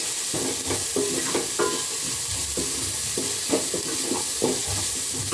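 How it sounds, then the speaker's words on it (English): Onions and tomatoes sizzling in frying oil reused from frying omena, with a utensil scraping and stirring the pan in repeated strokes over a steady close hiss. "Fry the onions until they turn yellowish gold yellow."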